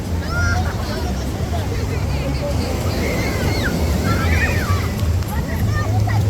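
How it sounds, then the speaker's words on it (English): High ocean waves surging onto a beach on a breezy evening, a constant low roar and slosh of surf with wind buffeting, while people chat nearby over the water. "we're getting hit by some high waves right now"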